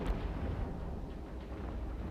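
A ship explodes in the EVE Echoes space game as a deep, rumbling blast with a sharp onset, then a sustained low roar that slowly settles, with no voices.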